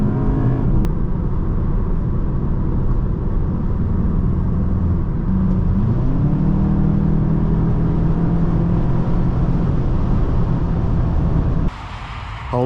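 A 2025 Volkswagen Jetta GLI Autobahn drives along with a steady loud engine and road drone heard from inside the cabin, with the engine note rising partway through before the sound dips briefly near the end.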